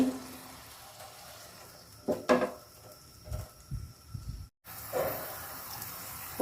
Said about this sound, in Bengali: এখন হালকা একটু জল দিয়ে দিব আর এটা কিন্তু বৃষ্টির পানি